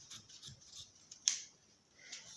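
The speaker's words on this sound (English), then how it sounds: "now I'm going to cut out the slant on the shoulder" Scissors cutting dress fabric along a shoulder slant: a few quiet snips and rustles, with one sharp, close metallic clip standing out in the middle.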